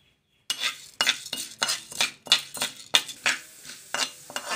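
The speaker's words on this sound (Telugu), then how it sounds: "ఈ విధంగా మనం కలుపుకుంటూ మనం వేయించుకోవాలి" Chana dal and urad dal being stirred in hot oil in a pan, heard as a rhythmic series of close scraping and clinking strokes, about eight or nine in a row, over a faint sizzle.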